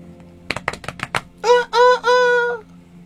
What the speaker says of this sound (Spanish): Y enseguida cantó el gallo.